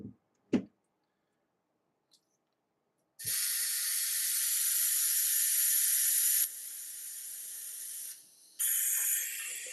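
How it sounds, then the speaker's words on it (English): An airbrush sprays airbrush cleaner through its cup, a loud close steady hiss that starts after a couple of small knocks, drops in level partway, cuts out briefly, then resumes. "I clean up the inside of the cup for the airbrush"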